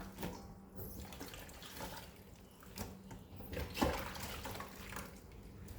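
Tap water runs steadily over limes being washed in a sink, with a continuous soft splashing and occasional sloshes as the fruit is handled, fairly quiet and close.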